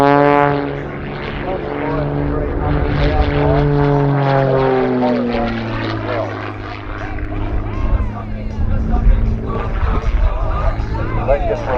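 A Rebel 300 aerobatic plane flies a display at the Tocumwal airshow, its propeller engine droning loudly and steadily and shifting pitch as it climbs and swoops past.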